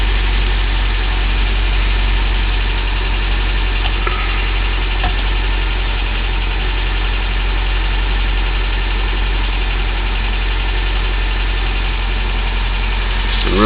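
Car engine idling steadily on its own for about fourteen seconds, a constant close low rumble with a faint metallic buzz and no voices.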